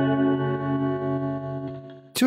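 An electric guitar runs through a ProCo Rat pedal emulation in Overloud TH3, with the amp set clean, for a fuzzy, messy distortion. One thick distorted chord sustains and rings, then a sharp new strum hits at the end.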